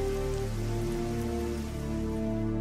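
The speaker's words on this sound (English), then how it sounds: "Liquid methane, it seems, rains down on Titan, or did at one time." Steady rain falling, depicting liquid methane rain on Titan, heard as a dense, even hiss of drops on a surface that runs unbroken throughout under a low sustained tone.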